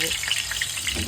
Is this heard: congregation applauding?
no